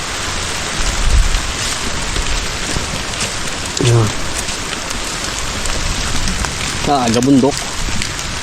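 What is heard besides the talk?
rain falling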